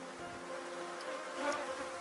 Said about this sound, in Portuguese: Aqui esse enxame, ó, tá numa sombra de uma árvore.